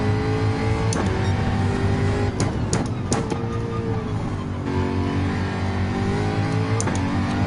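Race car engines in Gran Turismo 7 sim racing, a Porsche among them, drone steadily and loudly throughout, with a few sharp brief bursts layered over the continuous engine roar.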